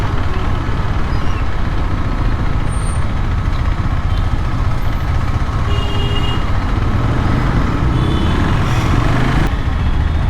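Gridlocked traffic on a road in Pune, India, with a constant close rumble of idling trucks and vehicles and a few brief tonal honks rising over the din.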